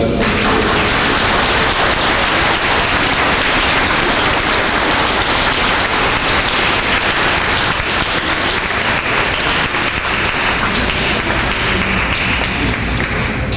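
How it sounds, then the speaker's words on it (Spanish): Loud, sustained applause from a congregation at a Catholic Mass in Mexico, dense clapping filling the space steadily for the whole stretch, with no voices rising above it. "un aplauso"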